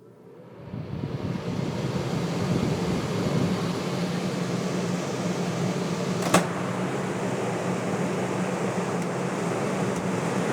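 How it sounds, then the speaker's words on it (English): A camper air conditioner's fan switches on and runs on high, a steady broadband whoosh with a low hum underneath, holding constant near the listener apart from a single brief click. "first thing we're gonna do is just turn the fan on without the air conditioner"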